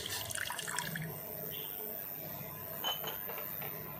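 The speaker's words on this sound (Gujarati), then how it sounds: "હવે એની અંદર આપણે જે અડધો કપ પાણી લીધું છે તે નાખશું।" Half a cup of water poured into a pan for tea, heard as a soft, brief splash with light clinks of metal and glass nearby, all fairly quiet.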